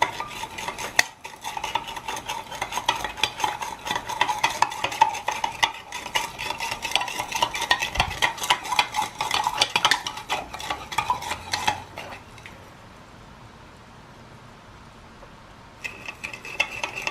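Copper sulfate solution is stirred in a container until it dissolves, a continuous clinking, scraping stir that runs steadily for most of the time, then drops to quiet before a brief return.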